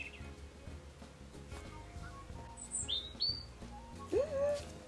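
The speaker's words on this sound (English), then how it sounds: "I don't know if you can hear those birds outside." Birds chirp outside a window on a mild, sunny autumn day, a few short bright tweets and whistles scattered over quiet room hum, fairly faint and distant.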